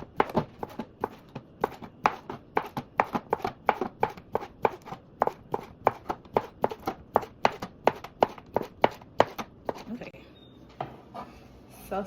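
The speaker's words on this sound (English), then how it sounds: "let's cut up the sausage and get it to the side so we can sear it" Steady, rapid knife chops through sausage on a cutting board in a home kitchen, about two dozen sharp evenly paced strikes close by, stopping near the end as quieter clatter follows.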